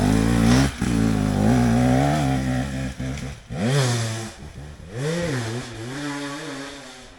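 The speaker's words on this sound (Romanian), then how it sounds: "după cum se aude motorul, e greu" A motorcycle engine labors uphill and revs unevenly, pitch rising and dropping as it strains, loud and close with brief dips between bursts.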